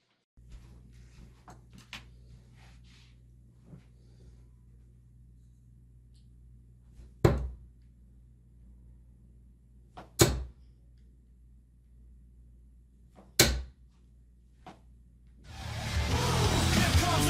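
Three sharp thuds of Loxley Marian darts striking a dartboard, spaced a few seconds apart over a quiet room hum, followed by a burst of broadband noise at the end.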